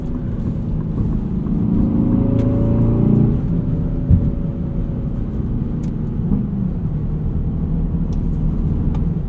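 A 2024 Aston Martin DBX 707 SUV driving in Sport Plus mode: a steady engine drone with a rising rev early on, then even cruising rumble from inside the cabin, with no talk.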